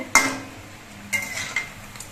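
Egg-dipped bread toast frying in oil is flipped in a pan: three sharp metallic scrapes and clinks of the utensil against the pan, over a faint, low sizzle.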